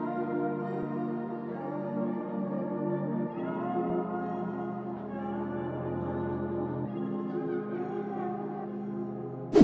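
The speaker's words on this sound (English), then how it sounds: "When manipulating it with a half time, it sounds something like this." A half-time processed vocal plays alone, slowed and deepened into a smeared, sustained tonal texture with steady loudness and a brief loud burst at the very end.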